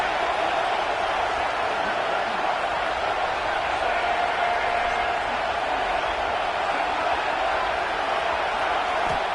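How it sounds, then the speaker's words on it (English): A football stadium crowd roars steadily with a dense, unbroken wash of cheering and noise early in the game, loud and continuous throughout with no clear breaks. "Listen to the crowd energy here in the early going."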